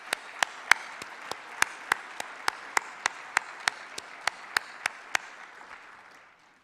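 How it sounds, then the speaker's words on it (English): Sharp, evenly spaced claps ring out over a soft wash of applause that slowly dies away in a reverberant hall. "Please join me in recognizing their efforts with a round of applause."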